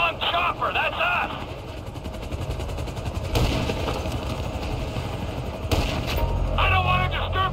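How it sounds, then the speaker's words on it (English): A police helicopter in the video game GTA V thuds overhead with rapid rotor chopping while gunfire crackles, all loud and dense, with bursts of voices and game sounds layered over it. "I want to do something about the chopper before we're blown out of the sky!"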